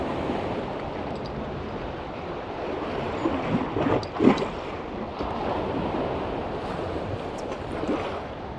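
Waves from the River Thames wash and splash against the embankment at Rotherhithe in a steady broadband roar, with wind buffeting the microphone and a brief louder splash midway.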